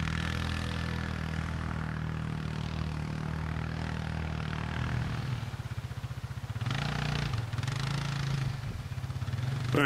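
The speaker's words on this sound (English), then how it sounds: "But the TGB 550 makes short work of this hill." A TGB Blade 550 AR IRS 4x4 quad bike climbs a hill on farmland, its engine droning steadily and close throughout. The pitch shifts and labours near the end as the load changes, with no talk.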